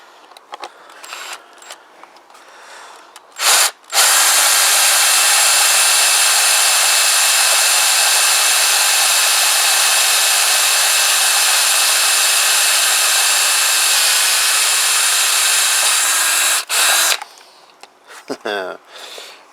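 A power drill whines loudly and steadily for about thirteen seconds as its bit bores into material and heats up, with brief clattering and handling noises before and after.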